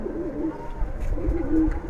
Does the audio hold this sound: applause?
no